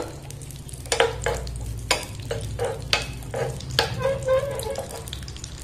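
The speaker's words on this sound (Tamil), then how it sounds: "நெய் வந்து கரிஞ்சிடாம மீடியம் ஃப்ளேம்ல வச்சு நம்ம ரோஸ்ட் பண்ணி எடுத்துக்கலாம்" Vermicelli (semiya) roasting in ghee over a medium flame for semiya payasam, with a spoon stirring and scraping the pan in repeated strokes over a soft, steady sizzle, close by and with no talking.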